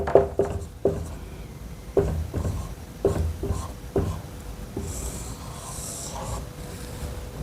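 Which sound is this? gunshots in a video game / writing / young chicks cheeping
writing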